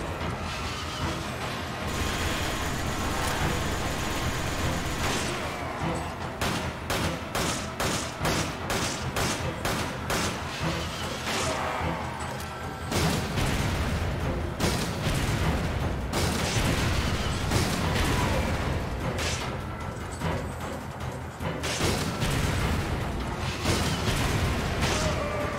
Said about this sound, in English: this fucker throws grenades